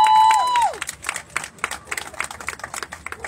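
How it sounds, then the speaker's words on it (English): Scattered clapping from a small crowd at an outdoor community vigil, a brisk patter of individual claps following a brief tonal noise at the start, fairly light and uneven. "Give Danielle a round of applause."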